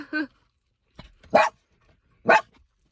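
A dog barks three times, sharp and fairly close, with pauses between the barks.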